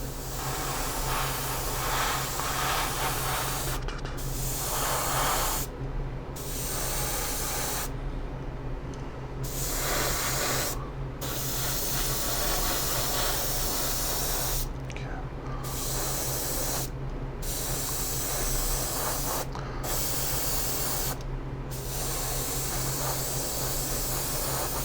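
Close, steady hiss of 2K clear coat sprayed onto the body of a 1/25 scale AMT 1962 Thunderbird model car, in repeated bursts with short silent gaps between passes.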